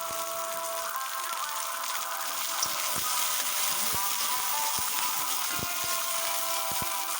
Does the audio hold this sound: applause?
no